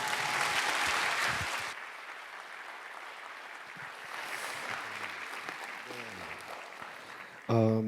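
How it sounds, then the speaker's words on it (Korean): An audience at a church winter retreat worship service gives a short burst of applause to welcome a missionary, loud at first and then fading into room noise, with a brief voice and a sharp sound at the end. "우리 박수로 환영하도록 하겠습니다"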